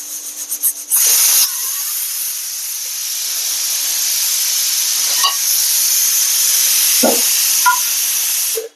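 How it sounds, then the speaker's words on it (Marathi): Steam from a pressure cooker cooking air potatoes, a loud sustained high hiss that starts abruptly after a few short bursts and runs steadily to the end, close by, with a couple of small knocks. "तर अशा पद्धतीने 4 शिट्ट्या झालेल्या आहेत."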